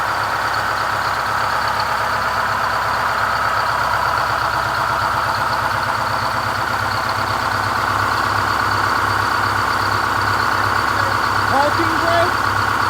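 A GM 4106 bus with a swapped Allison V730 transmission idles with a steady rhythmic diesel throb and low chugging pulse throughout, loud and close, while people talk nearby.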